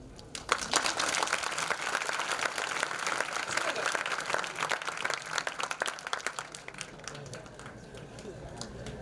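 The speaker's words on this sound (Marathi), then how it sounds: "अरे पास झालेल्यासाठी टाळ्या तर वाजवा." An audience at an educational guidance camp breaks into lively, dense clapping for students who passed, the applause swelling quickly and then thinning into scattered claps.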